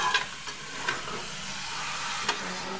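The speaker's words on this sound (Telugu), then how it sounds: "దీన్ని మాత్రం ఒక పావు గంట సేపు బాగా హైలో పెట్టేసుకొని తిప్పుకుంటూ వేయించుకొని బాగా నూనె పైకి వచ్చేంత వరకు వేయించుకోవాలి" Mutton curry fries in oil in a pan, a steady close sizzle with a few scraping stirs of the spoon.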